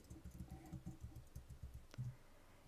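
Password keystrokes on a computer keyboard, a quick run of soft, close clicks in two bursts with a sharper tap near the end, heard alone in a quiet room.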